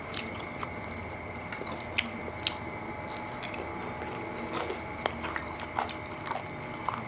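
Someone eats spicy Thai rice noodle salad with crispy pork: close, quiet chewing and wet squishy bites with occasional soft crunches, no talking.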